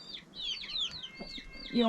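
Brahma chickens clucking and chattering softly close by, ending in a louder squawk.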